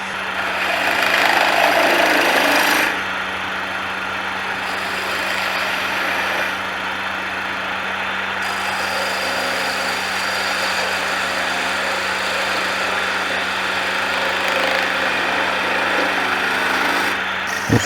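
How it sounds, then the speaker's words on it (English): Wood lathe spindle turning while a spindle gouge takes peeling cuts: a steady motor hum runs under a continuous, fairly loud broadband hiss of cutting, slightly louder at the start. "Those peeling cuts can help you get rid of a lot of wood in a hurry."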